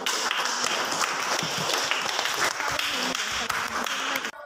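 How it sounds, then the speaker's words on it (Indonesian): A classroom full of students applauding, dense continuous clapping throughout that cuts off abruptly at the end. "Kita tepuk tangan dulu."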